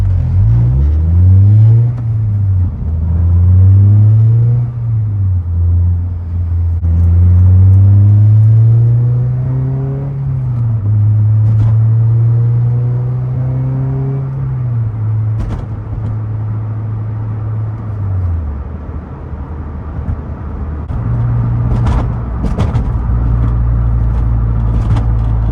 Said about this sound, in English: We're driving the CSX. It's on the Maxpeedingrod Coilovers.